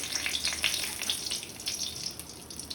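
A halved bay leaf sizzles in hot mustard oil in a pan, a soft steady crackle and hiss heard close and fairly faint throughout.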